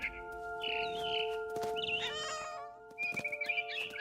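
Cat meows and yowls in the video game What Remains of Edith Finch: several drawn-out cries, then a rapid series of short chirpy calls, close and clear over a sustained musical tone.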